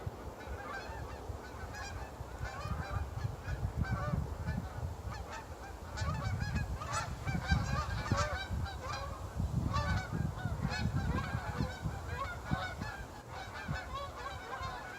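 A large flock of geese honking continuously, many overlapping calls at fairly close range with a steady, loud chorus throughout.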